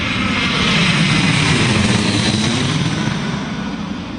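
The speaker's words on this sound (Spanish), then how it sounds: "El ruido de un motor a reacción puede alcanzar los 140 decibelios" A jet aircraft engine gives off a loud, steady broadband roar that fades slightly toward the end.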